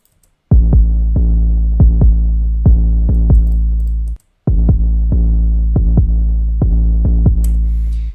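Deep booming 808 sub-bass notes play in a rhythmic pattern, stop briefly, then a second similar 808 bass variant follows, loud and without talk.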